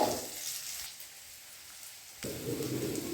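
Chopped onions sautéing in hot oil with mustard seeds, a steady frying hiss that dips quieter midway and then swells again, close and continuous with no talk.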